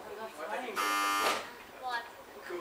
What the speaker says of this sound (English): one presses the buzzer